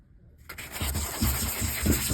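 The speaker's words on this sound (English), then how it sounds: "You can sand this." A hand-held sanding pad, in a grit between 200 and 2000, works around a rivet on a Humvee body. After a brief quiet start, close, rhythmic scratchy rubbing strokes repeat in short back-and-forth passes.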